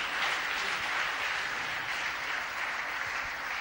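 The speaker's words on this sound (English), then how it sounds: "we hear the applause from the adjoining room where Charlton and Higgins are fighting out for the positions of third and fourth place" Muffled, steady applause drifts in from a neighbouring room at a 1973 Norwich Open snooker tournament, a continuous distant wash of many hands clapping with no voices on top.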